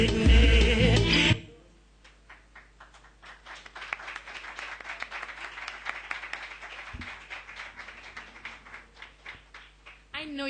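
An audience at a Tribute to Garvey 2014 stage event applauds contestants with sparse, scattered clapping that keeps up for several seconds after a loud burst of sound at the start, before a final louder swell.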